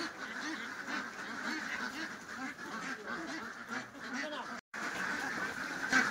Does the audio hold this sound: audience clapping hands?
no